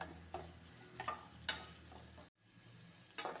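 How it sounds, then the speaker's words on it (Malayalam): Ginger, garlic and green chili sauté in a pan for Kerala chicken roast, giving a faint, soft sizzle broken by a few spoon scrapes and clinks, with a brief quiet gap partway through. "ഇഞ്ചി വെളുത്തുള്ളിയും ചെറുതായിട്ട് വഴണ്ട് വരുമ്പോഴത്തേക്ക് പച്ചവളവ് കൂടെ ചേർത്ത് വഴറ്റിയെടുക്കാം"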